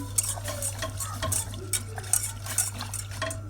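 A spoon slowly stirs thickening pastry cream for a Berliner cake in a pot, giving soft scraping swishes and faint clinks in a steady rhythm over a constant low hum.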